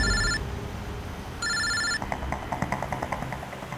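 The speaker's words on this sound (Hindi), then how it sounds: "मैंने अमन को फोन किया।" A telephone rings in two bursts of an electronic bell tone, a half-second ring and then a longer one after a pause, clear and fairly close, followed by a short run of rhythmic clicking tones.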